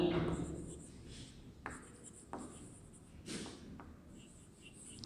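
Chalk or marker writing on a board while a class 3 maths money problem is solved, several short scratchy strokes close by with quiet pauses between them, and no talk over the strokes.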